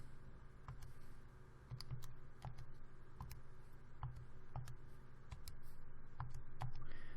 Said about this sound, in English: I'm simply going to go to my y equals key and type in the left-hand side